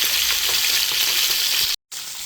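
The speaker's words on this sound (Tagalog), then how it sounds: "nilagyan ko siya ng bawang habang pinipirito ko siya" Garlic fries in a pan with a dense, steady sizzling hiss held close and loud, cut by a brief silent gap near the end before resuming.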